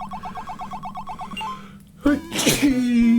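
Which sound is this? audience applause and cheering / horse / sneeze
sneeze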